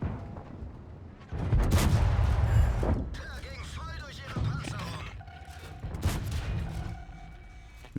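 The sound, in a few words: tank gunfire in video game World of Tanks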